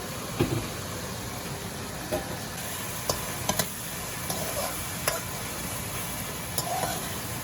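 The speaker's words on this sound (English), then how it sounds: "And we're gonna fry our shrimp." Shrimp fry in a little oil, a steady close sizzle with occasional sharp clicks and taps from stirring or a utensil.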